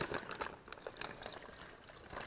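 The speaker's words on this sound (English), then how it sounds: "I'm adding water to my marinade bag, at least a cup, and a cup to 2 cups of water" Water poured from a cup into a marinade bag while preparing a Puerto Rican pork roast for an Instant Pot, a short uneven trickling and splashing close by with no talking.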